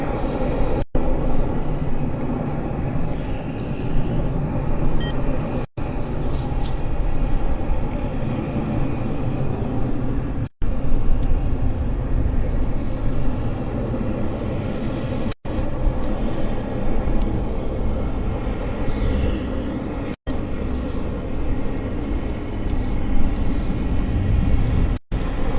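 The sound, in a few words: Icelandair airplane landing at Vancouver airport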